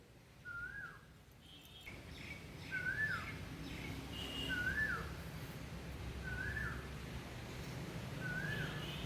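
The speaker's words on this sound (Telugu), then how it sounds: "ఉదయం నా రోజు కోకిల గానంతో పక్షుల రాగాలతో అయితే స్టార్ట్ అయిందండి." Outdoors in the morning, a koel and other birds sing. A clear whistled call with a rising inflection repeats about five times at regular intervals, moderately distant, over faint background rumble.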